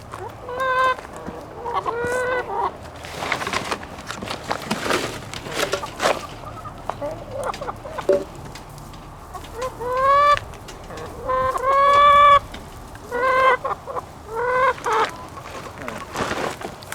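Chickens in a backyard coop cluck and squawk repeatedly at close range in bursts of rising calls, while a person talks and moves around among them.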